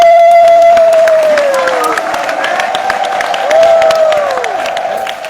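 Audience applause and clapping at an evening Hari-katha gathering in Vrindavana, India: a steady, fairly loud wash of many hands that lasts throughout, with thin gliding tones and some crowd noise layered over it.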